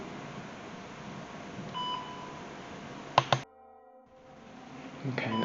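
A ghost hunting device gives sharp electronic beeps, a short tone early on and then a brief cluster of loud beeps around the middle, set against a faint hiss with a quieter gap after.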